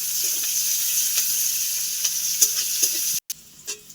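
Onion and mashed potato frying together in a pan, a loud continuous sizzle with soft stirring scrapes, a brief cut of silence near the end before the frying resumes more quietly.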